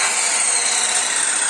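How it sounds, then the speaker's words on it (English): Steady, loud whirring and grinding of a power sander working a surface in a repair workshop, continuous and close with no pauses. "Is that a sander?"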